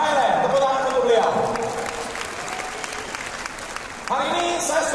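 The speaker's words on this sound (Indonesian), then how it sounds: "tepuk tangan untuk beliau." Audience at a gala dinner applauding with steady, broad clapping that fills the room, rising again near the end, with a voice over the crowd.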